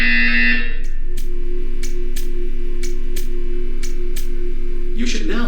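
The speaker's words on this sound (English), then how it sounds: "You will hear a buzzer. When you hear the buzzer, stare at the art." A buzzer from the video game Portal 2 sounds at the start, then gives way to a steady electronic hum punctuated by a regular series of sharp clicks, before a brief burst of noise at the end.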